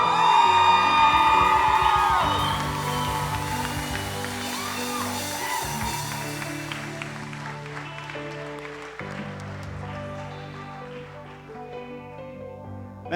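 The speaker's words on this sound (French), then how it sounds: "applaudissez-les un peu mieux que ça" A church congregation at a baptism service claps and cheers with whoops and shouts, loudest at the start and then thinning out, while music plays along underneath.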